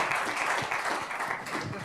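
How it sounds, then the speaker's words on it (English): An audience at a university talk on inequality in Cuba breaks into steady, full applause, many hands clapping together in a hall without pause. "It's an old communist tradition that we clap for each other."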